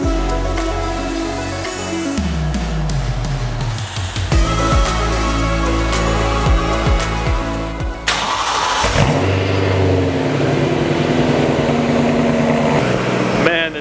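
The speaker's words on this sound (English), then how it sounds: "let you guys hear the car at revs with the intake off and the intake on" A BMW E9X M3 V8 fitted with an AFE carbon fiber intake, revving hard and close up with sharp rises and falls in pitch, then settling into a rough, throaty idle.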